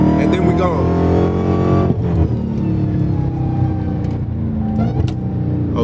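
A supercharged Dodge Charger Hellcat launches with its tires spinning at first, a loud, steady engine roar and high supercharger whine holding close throughout while someone talks over it.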